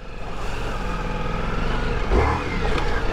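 A Ducati Multistrada V4S motorcycle rides off road, its engine a steady close rumble with a brief rise in revs near the end.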